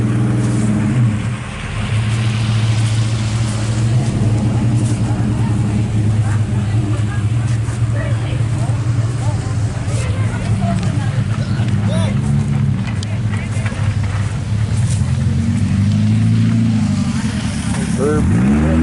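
Demolition derby cars idle and rev steadily at a Halloween carnival event, a continuous loud engine drone with deep low rumble and occasional throttle surges, persisting throughout with crowd and announcer voices faintly mixed in.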